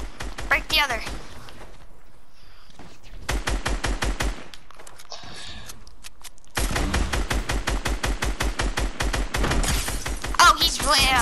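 Rapid automatic gunfire in a video game, fired in long, loud, close bursts with steady rhythmic shots, pausing briefly between volleys and with a voice talking between bursts.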